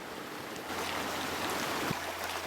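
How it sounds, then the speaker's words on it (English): A small woodland creek flows with a steady, soft, close rushing and babbling of water, with no voices. "And so here's the stream. This is a nice little creek."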